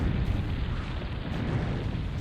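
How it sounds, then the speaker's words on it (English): Shogun artillery shells pound a base in Zero-K, a continuous rumbling roar of heavy explosions blending into one another, loud and steady throughout this short stretch. "Shogun, super strong, nice artillery piece. Able to hit most of your base."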